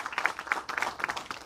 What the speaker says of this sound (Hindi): आपकी तालियां शांत न हो